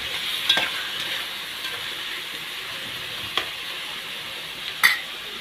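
Grated onion and grated carrot sautéing in a pan, a steady close sizzle with a few stirring scrapes and clinks, no voices.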